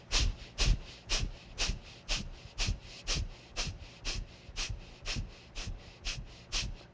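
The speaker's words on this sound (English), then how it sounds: "we'll begin to do our breath of fire here" Rapid breath-of-fire breathing in a yoga session, forceful nasal exhales pulsing in a steady even rhythm, about two per second, close and clear with no talking.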